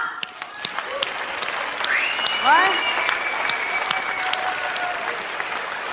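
Studio audience applause on a Quebec talk show, a dense steady clapping wash running throughout with cheers and whoops rising over it, while a voice speaks briefly.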